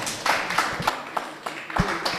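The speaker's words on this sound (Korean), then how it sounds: "큰 박수를 부탁드리겠습니다" A handful of distinct, fairly close claps in a loose, uneven rhythm at a candidates' fair-election pledge ceremony for the Suncheon mayoral race, with sparse participation rather than a full round.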